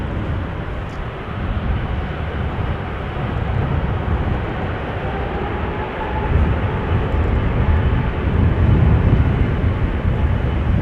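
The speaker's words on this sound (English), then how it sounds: "With an A330 Turkish outbound Istanbul flight 1952. We'll be taking off from the runway threshold of 18 left in a moment." A Turkish Airlines A330 takes off from runway 18 left at Amsterdam Schiphol on a breezy day, its jet engines a loud, broad, continuous roar that swells gradually.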